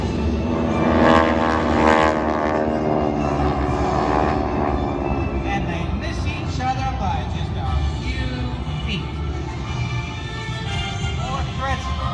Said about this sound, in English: 4 600 horsepower World War II airplane from the left, 4 from the right, approaching head-on